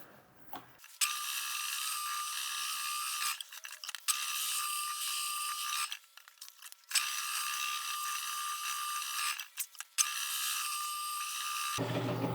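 Steady, even abrasive sanding of a bowling ball with a 2,000-grit pad, a continuous scratchy rub in several long passes separated by brief pauses.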